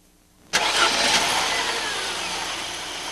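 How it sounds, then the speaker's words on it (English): A car engine with Bosch KE-Jetronic fuel injection, tested cold with the idle speed stabilizer active, fires up abruptly and settles into a steady, fairly loud running idle with no voices. "the idle speed stabilizer holds a steady RPM as specified, slightly higher than warm idle"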